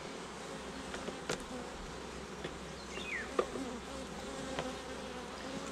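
Honeybees swarm a freshly opened beehive during a swarm-season inspection, the frames of sealed honey exposed. A steady, dense buzz of many bees hums close by throughout, with no one talking.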